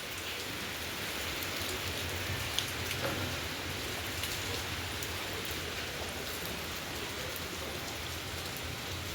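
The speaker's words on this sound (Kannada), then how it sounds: "ಜೋರು ಮಳೆನೇ ಬಂದುಬಿಡ್ತು" Heavy monsoon rain pouring down in a steady, dense hiss, loud and unbroken for the whole stretch, with no voices.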